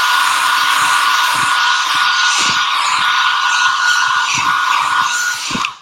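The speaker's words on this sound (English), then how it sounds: "If you have a hair dryer around, you can dry it a tiny bit" A hair dryer drying paint blows with a steady, loud whooshing roar, running nonstop close by, with a few faint knocks underneath.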